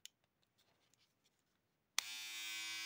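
Philips wet/dry 6+1 electric shaver switched on after a few faint handling clicks, starting abruptly into a steady bright whirring buzz that holds to the end, close and clear.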